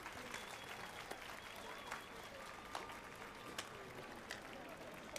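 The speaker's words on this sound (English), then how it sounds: "now everybody else is clapping." A crowd in a tavern inn in The Witcher 3 game applauds with steady, even clapping and a few sharper individual claps, under a voice talking over it.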